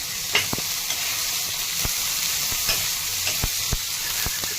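Ginger and coconut roasting in a hot pan for a dum aloo masala, a continuous close sizzle broken by sharp scraping clicks from stirring at an uneven rhythm.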